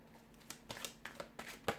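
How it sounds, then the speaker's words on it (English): Tarot cards being shuffled, giving a quiet run of soft papery flicks and riffling bursts that come in irregular bunches, close up with no talking. "we'll give the cards a shuffle"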